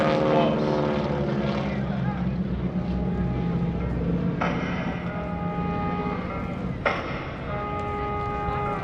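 Propeller planes of the GEICO Skytypers at an airshow at NAS Oceana in 2016, a steady droning engine hum, fairly loud and sustained, under an announcer talking throughout.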